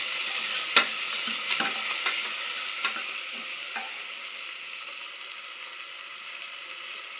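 Onions, curry leaves and tomato being mixed and fried in a pan for avarekai sambar, a steady bright sizzle with several scraping stirs early on, close and without talk.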